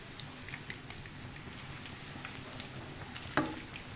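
Onion and gram-flour pakoras sizzle gently in shallow oil with potato in the batter, a soft continuous crackle and bubbling heard quietly throughout, with one sharp utensil click near the end.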